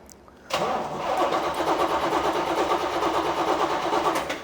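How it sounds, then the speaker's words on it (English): A 1967 L89 engine that has not been started in a long time, cranked with the car in neutral and the clutch depressed, catches abruptly after a brief quiet moment and settles into a steady, loud, close running roar. "If she is in neutral and if you have the clutch depressed, please crank the engine."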